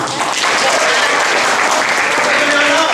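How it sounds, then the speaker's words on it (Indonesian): Audience applause for a speaker at a literature event on tolerance, a dense, steady clapping from a crowd lasting throughout, with voices faintly mixed in. "Tepuk tangan untuk Pak Habib Yassin."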